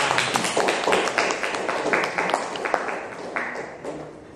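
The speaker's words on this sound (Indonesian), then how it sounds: "Terima kasih. Tepuk tangan." Students in a classroom applaud after a history presentation, a brisk patter of many hands clapping at moderate distance, steady and fairly soft, tapering slightly toward the end.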